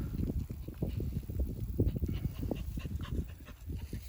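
Dog panting close to the microphone outdoors during a summer search for snakes in England, a quick, steady run of breathy huffs with faint rustling and no talk.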